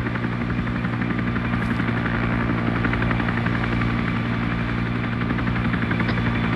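A helicopter flies overhead in a video game night battle, its loud steady rotor thrum and engine drone continuous and close throughout.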